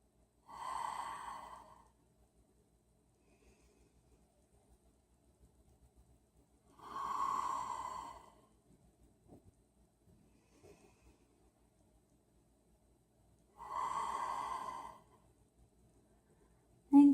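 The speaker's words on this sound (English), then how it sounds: "Inhaling, filling the belly, and exhaling Ujjayi." Three slow, deep Ujjayi breaths during a sleep-focused yoga session, each a long airy whoosh with a throaty ocean-like hiss, separated by several seconds of quiet, close and soft.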